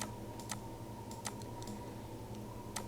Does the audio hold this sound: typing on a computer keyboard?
yes